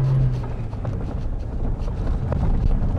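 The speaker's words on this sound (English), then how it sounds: "Let the engine sing its heart out." Suzuki Jimny engine revving hard while driving off-road, a loud steady rumbling drone with wind buffeting the microphone, continuous throughout.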